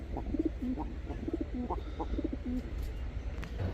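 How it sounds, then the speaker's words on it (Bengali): Soft, low cooing from a pair of green-necked Pankhi pigeons repeats in a steady rhythm over a constant low background hum, close by with no voices. "এখন দেখাবো এক জোড়া সবুজ গলা পাঙ্খি কবুতর"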